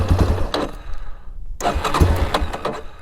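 A Yamaha Warrior ATV engine cranking and trying to catch, with sputtering bursts on either side of a brief pause, close and fairly loud.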